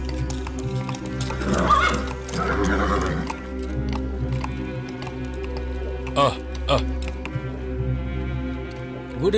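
A frightened horse whinnies and its hooves clop near a stable on a Dracula horror film's evening scene, with eerie music and voices underneath, the neigh rising briefly around the second mark.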